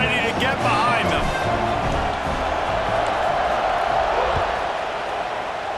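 Stadium crowd noise in EA Sports College Football 26, a steady dense roar of many voices with cheering swells throughout, loud and continuous at a kickoff.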